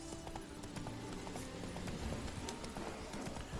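Hooves clip-clop in a steady walking rhythm as Roach, the horse in The Witcher 3, moves along, fairly quiet against a soft ambient background.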